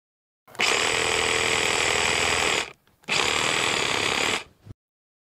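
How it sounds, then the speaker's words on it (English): Handheld power saw cutting through wild pig carcass while butchering, two sustained loud grinding bursts of about two seconds and one and a half seconds separated by a brief pause, no talking. "This saw isn't as good as a bandsaw"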